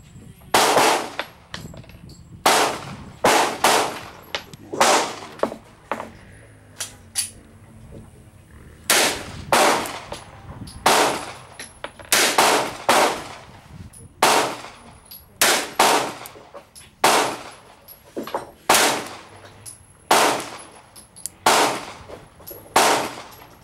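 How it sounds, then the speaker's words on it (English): Gunfire at a target range, a series of sharp, loud, close shots in uneven clusters with pauses between, each crack followed by a brief decay, and no voices. "Let's shoot another 5 rounds and see what the accuracy was"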